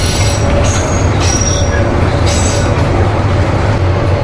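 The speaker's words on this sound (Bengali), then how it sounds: "রাইট নাও ডিপার্চার নিচ্ছে আন্তনগর তিস্তা এক্সপ্রেস মেলান্দহ বাজার রেলওয়ে স্টেশনের 1 নম্বর প্ল্যাটফর্ম থেকে" The Teesta Express intercity train pulls out from platform 1 at Melandah Bazar railway station, a loud continuous rumble of wheels and carriages with intermittent high metallic squeals.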